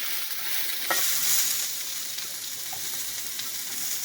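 Chicken, shrimp and vegetables with scallion being stir-fried in a hot pan, a soft continuous sizzle with a few scraping stirs and clinks, moderately quiet and close, no talking.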